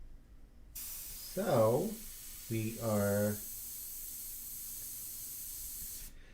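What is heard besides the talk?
airbrush spraying India ink medium mixture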